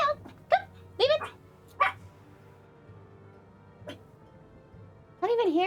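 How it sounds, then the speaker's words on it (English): A dog barks in several sharp bursts with whimpering yips between them, close by, while a person speaks over it. "What are you barking at?"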